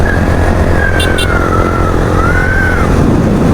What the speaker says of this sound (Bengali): আমার একটা সময় পছন্দের বাইক ছিল, সাউন্ডটা সুন্দর, টারো জিপির অস্থির একটা সাউন্ড।